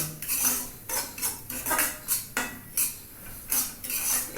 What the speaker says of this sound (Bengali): কাজু কিশমিশ একসাথেই আমি সব ভেজে নিচ্ছি